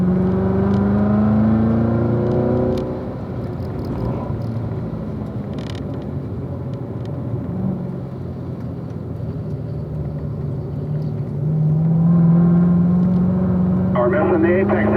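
A race car engine rumbles and revs through turn 3 of a road course, pitch dipping through the corner and climbing again as the throttle opens, heard under steady coaching talk.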